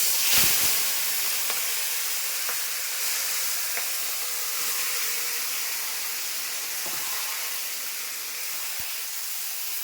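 Small morla fish and vegetables go into hot oil tempered with black cumin in a wok, releasing a loud, steady hiss and sizzle that fades slightly, with a few faint clinks.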